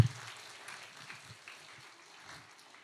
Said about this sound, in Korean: 큰 박수 쳐주시고요.